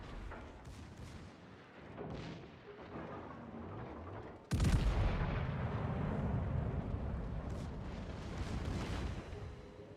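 Heavy naval gunfire booms from a French super cruiser in World of Warships, a muffled exchange of distant shots giving way to a sudden loud, sustained rumbling blast wash.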